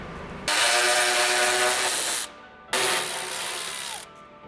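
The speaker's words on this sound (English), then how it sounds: "Using a 16mm socket, remove these 2 M12 bolts holding onto the power pack skid plate." A power tool with a 16mm socket spins out M12 bolts from a Jeep JLU 4xe power pack skid plate in two loud whirring bursts, each lasting about two seconds, separated by a short pause, with no talk.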